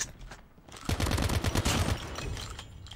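Automatic weapon fire in the mobile shooter Call of Duty Mobile, a dense rapid burst of gunshots lasting about a second, loud and close, trailing off into quieter game ambience.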